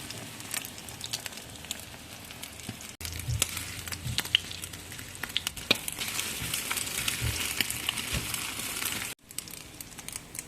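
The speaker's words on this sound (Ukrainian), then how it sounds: "Вимочуємо кожен шматочок і відправляємо на сковорідку випікатися до золотистої скориночки." Pieces of bread soaked in beaten egg fry in a pan for a sweet Ukrainian paska-style bake. They give a close, steady crackle and sizzle with sharp little pops throughout.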